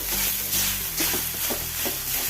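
Cooked rice is stirred into a Kerala-style tadka in a pan, giving a dense, loud and continuous sizzle with soft, repeated stirring scrapes close up.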